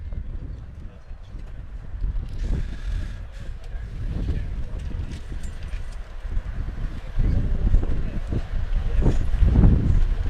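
Strong wind buffets an outdoor rugby pitch during a match, a steady low roar and rumble against the microphone that swells louder toward the end, with no clear voices.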